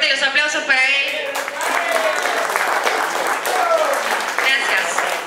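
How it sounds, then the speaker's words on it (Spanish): Audience applause at the Angel's Noche awards ceremony, steady clapping throughout with voices and cheering layered over it. "Fuerte los aplausos para él."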